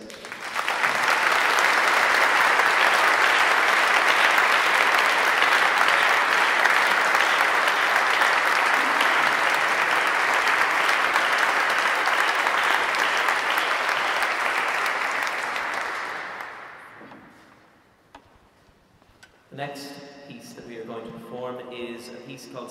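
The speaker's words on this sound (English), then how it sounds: "Could we please get an extra round of applause for our string players?" An audience at a choir's summer concert gives a long, loud round of applause for the string players; the clapping holds steady for about fifteen seconds, fades out, and then a voice begins speaking.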